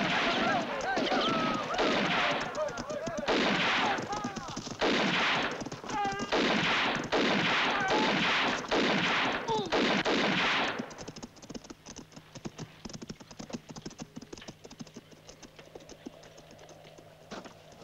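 Rapid gunfire in a spaghetti western film, a long burst of repeated sharp shots in quick irregular succession, loud and close, stopping abruptly and leaving a quieter stretch of faint clicks and background noise.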